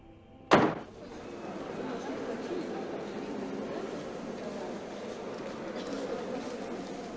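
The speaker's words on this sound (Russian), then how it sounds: "Закрывай дверь." A door is shut with one sharp, loud slam, followed by a steady low room rumble; voices are heard in the scene.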